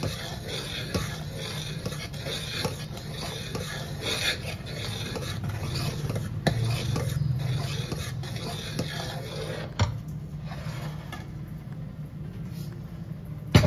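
Fermented batter with salt is gently stirred by hand in a vessel, giving a soft, continuous rasping and scraping close by for several seconds, with occasional louder knocks.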